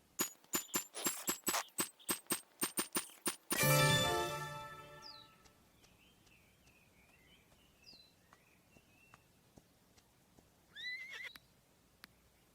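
Horse sounds in the Roblox game Horse Life: a quick run of clip-clop hooves followed by a loud, drawn-out whinny, then faint chirping birds and a few short calls against a quiet background.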